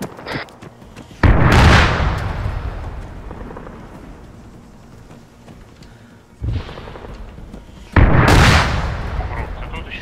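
Heavy gunfire in ArmA 3 comes as three loud, booming bursts, each with a long rolling tail, spaced a few seconds apart over quieter background rumble.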